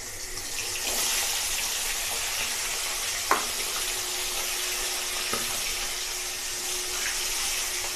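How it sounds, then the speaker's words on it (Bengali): A hilsa fish head fries in hot oil with whole cumin, giving a steady close sizzle and hiss with a couple of small pops. "দিয়ে আমি ইলিশ মাছের মুড়োটা ভেজে নেব"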